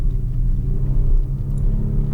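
Kia Stinger GT pulling under half throttle, a steady, loud low engine rumble with road noise from inside the car, no voices, holding an even drone throughout.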